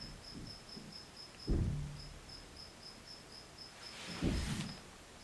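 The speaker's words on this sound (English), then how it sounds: "Can you hear that cricket? That is so loud." A single cricket chirps loudly indoors inside an apartment, giving a steady train of rapid high-pitched pulses, with soft low thumps and handling noises underneath and no speech.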